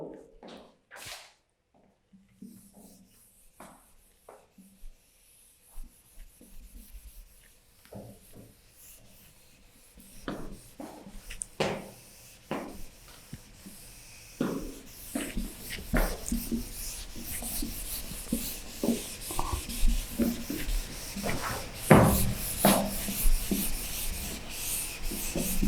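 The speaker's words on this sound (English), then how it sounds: "Just a second, I will erase the board." A classroom board being wiped clean, a long stretch of scratchy rubbing strokes that start sparse and faint and grow busier and louder, close by with no talking.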